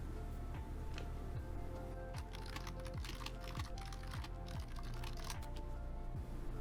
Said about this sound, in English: you can type them in here